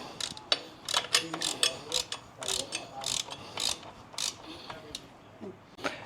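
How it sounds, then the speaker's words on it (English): A hand ratchet with an extension snugs an Allen socket bolt while fitting an oil cooler to an M8 Harley bagger, producing quiet, close bursts of rapid pawl clicks in a loose, irregular rhythm. "Grab your ratchet and your extension, and we're just going to snug it up before we torque it"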